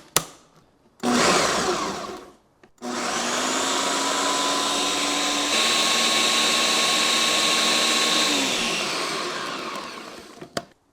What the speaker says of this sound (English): And now we're ready to blend this up.